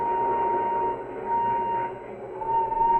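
Steady low rumble of a train rolling over a bridge, a radio drama sound effect, running continuously beneath a faint steady whistle-like tone, with a slight swell toward the end.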